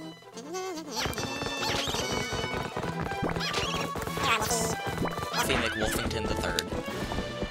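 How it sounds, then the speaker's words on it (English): Horse in the Zelda Twilight Princess video game, with rapid clip-clopping hooves, a sharp neigh and crashing game effects over background music. "I love how fast you can come to a screeching halt on your horse."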